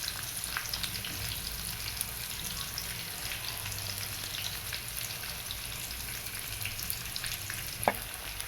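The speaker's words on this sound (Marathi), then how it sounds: "आता आपण हे सगळं मिश्रण परतून घेऊया." Onion, ginger-garlic paste, cumin and mustard seeds fry in hot oil for a gobi aloo dish, a steady dense sizzle with occasional small pops and a brief clink near the end.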